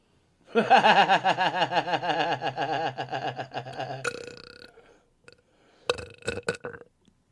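A long, loud, gurgly burp from a person rolls on for several seconds with a wobbling, bubbling tone, then gives way to a couple of short laughing snickers.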